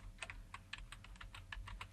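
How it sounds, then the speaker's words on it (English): Fingers type on a computer keyboard in a quick, uneven run of close, crisp key clicks, with no voices over them. "At this point, we can just start typing."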